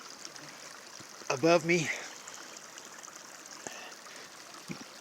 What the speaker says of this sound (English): Good cold water coming straight down from that snow melt